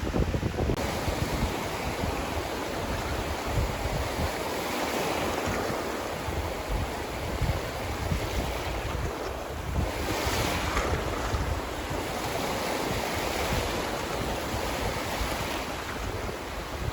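Ocean waves breaking on a Gulf of Mexico beach at Fort DeSoto Park, a steady wash of surf under heavy wind buffeting the microphone, continuous and moderately loud, with no voices.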